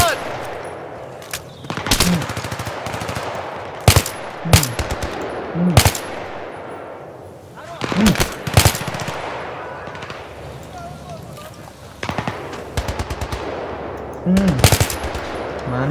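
Battlefield 3 gunfire crackles in repeated bursts of loud automatic shots and single cracks, spread unevenly across the stretch, with game voices faintly underneath.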